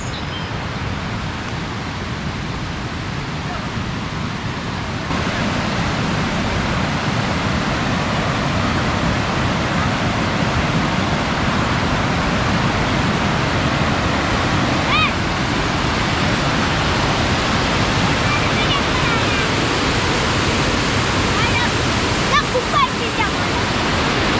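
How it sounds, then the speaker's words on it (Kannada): The Challangayam Kampam waterfall rushes in a steady, dense roar of falling water that fills the scene from start to finish without a break. "ನೋಡಿ ಅಲ್ಲಿವರೆಗೆ ಹೋಗ್ತದೆ ಫಾಲ್ಸ್."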